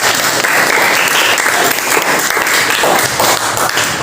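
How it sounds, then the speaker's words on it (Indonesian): A school class in an Indonesian language lesson breaks into loud, dense applause, continuous clapping that holds steady for about four seconds. "Beri tepuk tangan untuk."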